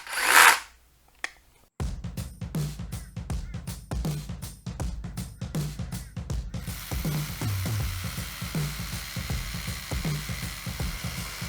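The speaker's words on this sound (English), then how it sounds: "the first test I do is 8 by 80 millimeters, drilling into 32 MPa concrete" A DeWalt 18 volt DCH172 rotary hammer drilling an 8 by 80 mm hole into 32 MPa concrete, a rapid, loud, continuous hammering rattle close by that starts after a brief pause and runs steadily to the end.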